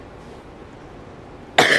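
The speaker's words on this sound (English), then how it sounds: "I thought I was gonna sneeze and then I coughed." A single sharp cough from someone with a cold, sudden and loud close to the mic after a quiet, still room.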